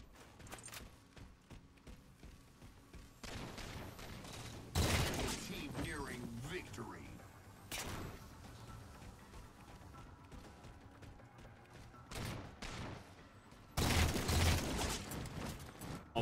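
Multiplayer shooter gunfire, scattered sharp shots and two louder bursts standing out over steady game noise, with someone talking intermittently in between.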